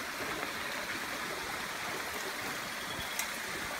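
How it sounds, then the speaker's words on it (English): A small rainforest stream trickles beneath a hanging bridge in Costa Rica near Arenal, giving a constant close, even wash of running water with no voices. "It's just going over a little trickle of a stream."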